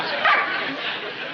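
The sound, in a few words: dog barking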